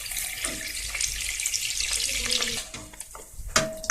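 Hot browned fat is poured over Turkish tarhana, producing a steady, rushing sizzle and hiss with a few sharper splatters and clinks near the end.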